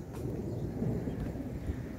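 Low thunder rolls through an early morning thunderstorm in Cyprus, a continuous deep rumble with wind buffeting the microphone and faint rain, and no talking.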